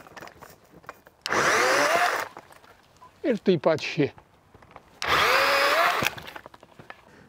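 A Kamikaze KVS7000P cordless telescopic saw cuts tree branches in two loud, steady buzzing bursts of close cutting, with someone speaking briefly between them.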